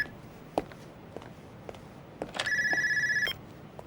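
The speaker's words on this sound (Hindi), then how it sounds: "तुम अपना फ़ोन अटेंड करो" An electronic telephone ringtone sounds in a steady tonal burst for about a second, preceded by scattered soft footsteps and room knocks in a quiet indoor scene.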